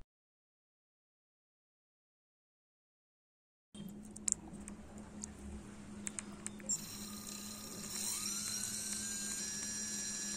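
A brushless motor driven through an ESC whines into life after a few seconds of silence, a thin, high, steady hum with small clicks, its pitch climbing as the speed is varied toward the end.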